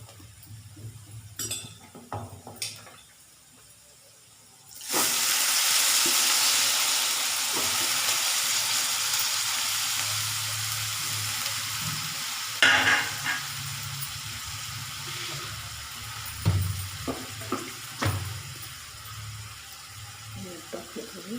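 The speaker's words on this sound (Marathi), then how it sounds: "कांदा लाल झाला आहे आता लाल मिरची टाकणार आहे" Onion frying in a pan as red chili goes in, a sudden loud hiss that settles into steady sizzling, with clinks of utensils and brief voices around it.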